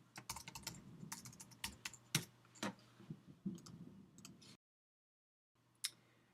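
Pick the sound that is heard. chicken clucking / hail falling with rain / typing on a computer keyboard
typing on a computer keyboard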